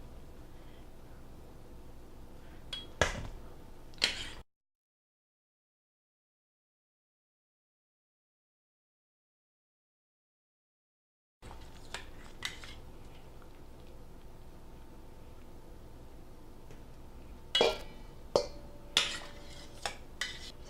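Boiled potatoes for a picnic potato salad are lifted out of a cooking pot, giving a few faint metallic clinks and scrapes of a utensil against the pot, separated by long quiet stretches.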